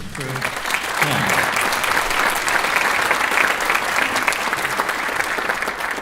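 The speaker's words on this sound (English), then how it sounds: "give them a big round of applause" Sustained audience applause at a Northern Fiddlestorm fiddle concert, dense and steady clapping from a large crowd that stays loud and even from start to finish.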